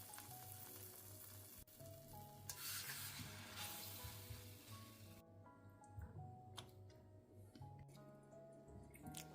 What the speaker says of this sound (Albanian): Tani tek tigani me vajin e nxehur, i shtojmë filetat e viçit aty për t'i fërguar.